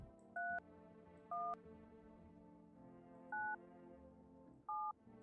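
Four distinct touch-tone dialing beeps sound in an irregular sequence over a low, steady ambient hum as a phone number is entered in the video game No, I'm Not A Human; quiet and clean, with no speech.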